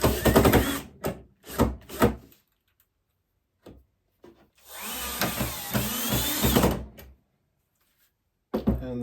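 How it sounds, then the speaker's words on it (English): A power drill drives 1 1/4 inch drywall screws into miter saw fence supports, several short bursts of whirring followed by a longer sustained run, with pauses and clunks in between. "I'm going to take some 1 1/4 drywall screws and we're going to attach them where those supports are at the bottom."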